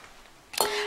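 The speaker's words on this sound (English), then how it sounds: "I just kicked one of my glass votives that I'm going to show you in a minute" Glass votive candle holder kicked indoors gives a single sharp clink with a short bright ringing tail, fairly faint against a quiet room.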